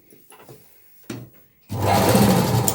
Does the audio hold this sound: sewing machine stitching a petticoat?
yes